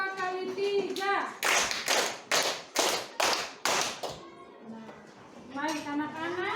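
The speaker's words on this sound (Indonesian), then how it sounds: "Tepuk 2 kali" Children clapping hands in a classroom on a teacher's counted cue, a series of about eight sharp, loud claps in quick rhythm, between stretches of a voice speaking.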